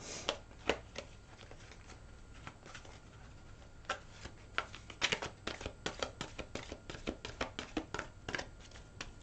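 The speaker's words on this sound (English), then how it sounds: "so I'm going to keep shuffling for a minute" Law of Attraction oracle cards are shuffled close up in quick riffles and soft taps, the crisp card noises speeding up and clustering toward the end, with no one talking.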